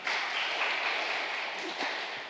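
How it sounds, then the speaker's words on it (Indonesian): Applause from a church congregation at an inter-sector HKBP Limo competition, a steady dense wash of clapping lasting a couple of seconds with a faint voice near the end. "Luar biasa ya, tepuk tangan Amanginang."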